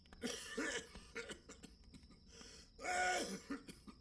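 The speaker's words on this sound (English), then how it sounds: "I'll have to do this quickly before this man stops coughing." A man coughs in the video game Dead Synchronicity, producing two hoarse bursts of a few rough, throaty coughs each, with a gap between them. The coughing sounds fairly close and carries no talk.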